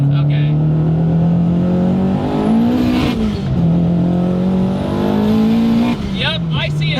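A big-turbo Scion FRS making 560 horsepower accelerates hard through the gears, its engine droning loudly with rising pitch that drops at each shift, while people talk over it.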